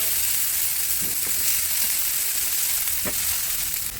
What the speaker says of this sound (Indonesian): Ditumis dulu atau digoreng dulu ini bumbu-bumbunya